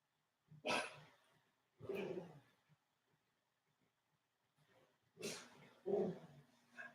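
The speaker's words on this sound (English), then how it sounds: "What is my dog barking at?" A dog barks in the room, a few sharp barks in separate bursts with quiet gaps between them, fairly close and moderately loud.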